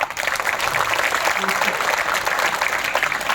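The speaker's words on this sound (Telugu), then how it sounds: "క్లాప్స్ కొట్టండి" An audience applauds at a retirement function held in a school, a dense, steady wash of many hands clapping at a fairly loud level for the whole stretch, with faint voices mixed in.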